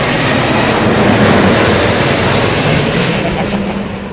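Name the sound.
Airbus A350 airliner at London Heathrow Airport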